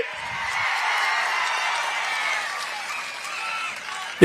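A crowd at a political rally in Anantapur claps loudly, a dense roar of applause mixed with cheering that holds steady for a few seconds before a sharp sound cuts in at the very end.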